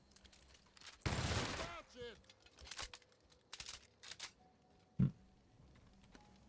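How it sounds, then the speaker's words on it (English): Gunfire in the video game The Outer Worlds aimed at an apple tree: a dense burst of rapid shots right at the start, then a few scattered shots and clicks, with some faint background sounds. "What if I shoot the tree?"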